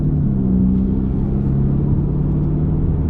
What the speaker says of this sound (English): let's take this car out for a drive